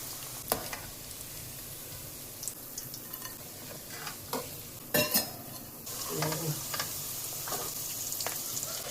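Onion pakoda frying in hot oil, a soft steady sizzle with occasional stirring scrapes and clinks, quiet and close, with no talking.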